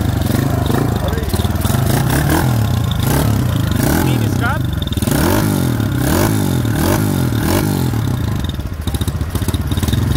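A Honda Titan 190cc motorcycle engine idles and revs close by with a rough, rhythmic clatter, while people talk over the steady mechanical rumble.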